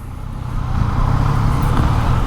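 Dense Friday-night traffic on EDSA in Manila rumbles in a constant, loud low roar of cars, buses and trucks close by, swelling slightly after the first half-second.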